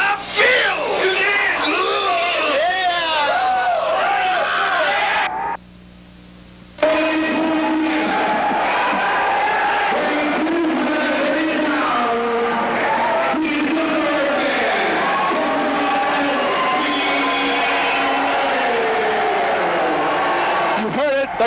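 Loud crowd cheering and yelling at Elder High School's NWF wrestling show, dense and sustained throughout with a brief drop near the middle, mixed with an announcer's voice.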